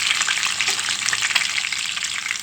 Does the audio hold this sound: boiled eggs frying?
yes